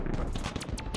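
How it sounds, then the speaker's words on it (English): Rapid bursts of video game gunfire crackle through a chaotic battle against around a hundred players, overlapping shots dense and continuous across the moment with no talking. "Where's everybody shooting from?"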